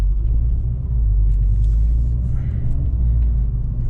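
A Volkswagen Golf GTI cruises through a residential neighborhood, its steady low engine and road rumble filling the cabin evenly throughout, with no voices.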